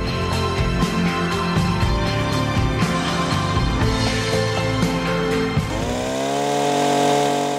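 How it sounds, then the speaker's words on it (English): A Stihl hedge trimmer with a compact engine runs loud and close, a steady buzzing engine whine that drops in pitch near the end as it slows. "Still hedge trimmer makes the task very simple."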